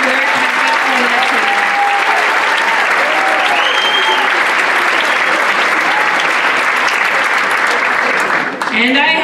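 Loud, continuous audience applause at a community celebration event, dense clapping with cheers and whoops mixed in, sustained throughout.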